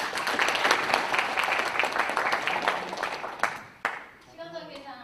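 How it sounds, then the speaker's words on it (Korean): Audience applause at a Naju mayor's press briefing, steady dense clapping for several seconds that thins out into a few scattered claps as a voice begins speaking near the end. "박수 한번 부탁드립니다"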